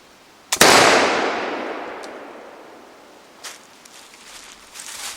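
A Pedersoli Queen Anne flintlock pistol loaded with buckshot fires a single sharp, loud blast at a 15-yard range. The report decays over several seconds, and a few faint knocks and rustles follow.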